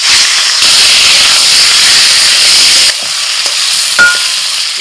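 Washed, drained chicken pieces dropped into hot oil, giving a loud, dense, continuous frying hiss and crackle that swells and shifts as the pieces settle, with a few sharp pops.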